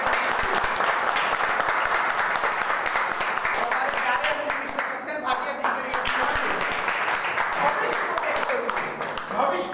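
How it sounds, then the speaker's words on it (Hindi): A business-meeting audience gives loud applause for Dr. Ashok Patil, a dense, sustained wash of many hands clapping at close range for nearly ten seconds, with a voice faintly underneath. "मैं एक बार जोरदार ताली चाहूंगा डॉक्टर अशोक पाटिल"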